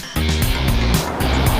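A dual-motor all-wheel-drive electric SUV, the Exeed Sterra ET, launches hard in sport mode with a loud, steady whine and rushing road and wind noise, no voices present.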